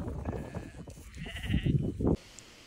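Sheep on Fair Isle bleat in short wavering calls over rustling and shuffling nearby, with a sudden drop to quiet near the end.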